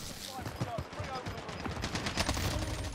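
Rapid gunfire in the video game Call of Duty Warzone, a dense crackle of distant and mid-range shots running throughout under busy game noise, with faint voices mixed in.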